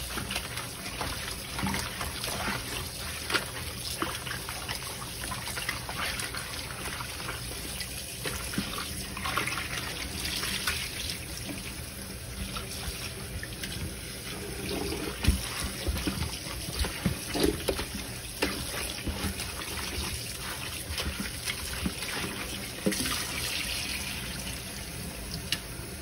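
Water is poured off a turkey in a cooking pot, a steady wash of splashing and trickling that continues at moderate volume for about 26 seconds with no voices.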